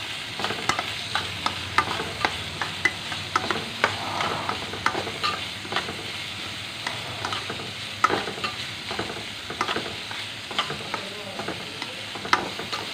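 Kanthari chilli leaves are stir-fried for thoran, a soft sizzle under repeated scraping and stirring strokes of a spoon in the pan, steady and close throughout.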